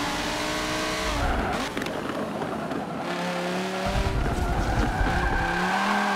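An Audi R8 race car driven in the video game Forza Motorsport 7 roars steadily throughout, its engine note rising and shifting through gears with bursts of tire squeal, loud and close.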